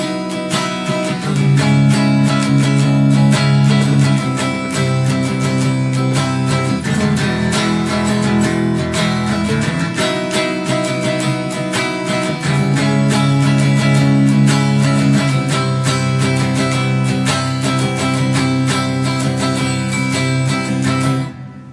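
Dense, loud electric guitar plays the bridge of a song, strummed chords driving steadily for about twenty seconds with a brief dip midway and no talking.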